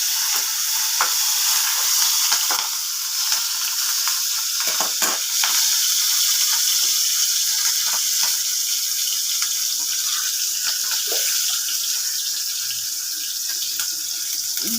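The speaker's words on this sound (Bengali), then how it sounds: "মধ্যে শুকনো লঙ্কা দিলাম, তেজপাতা দিলাম, লঙ্কা কুচি দিলাম, কাঁচা লঙ্কা কুচি দিলাম।" Dry red chillies, bay leaf and chopped green chillies frying in hot oil for an egg bharta curry, a steady dense sizzle running throughout, close and fairly loud, with occasional small pops and stirring scrapes.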